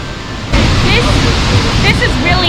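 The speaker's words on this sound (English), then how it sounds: "Seljalandsfoss Waterfall is in the southern region of Iceland" Seljalandsfoss, a waterfall in southern Iceland, roars as a loud, dense wash of falling water close by. It swells suddenly after a quieter opening, and a voice speaks briefly over the roar.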